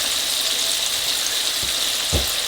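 Spinach frying in a pan for spinach pasta, a loud steady hiss of sizzling oil with two dull thumps toward the end, no voices.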